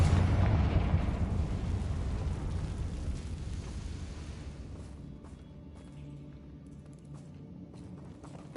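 A fiery blast from the Confringo spell in the video game Hogwarts Legacy, starting with a loud, rumbling burst that slowly fades into a long, dwindling tail, with no talk over it.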